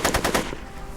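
Rapid bursts of gangster tommy-gun fire in the Back to the Future video game, four loud close shots in quick rhythm, then a fading tail, with no one speaking.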